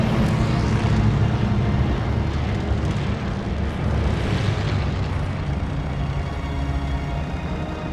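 A propeller aircraft engine roars in a Call of Duty Vanguard Battle of Midway mission, a dense continuous drone that stays loud and steady throughout with no pauses.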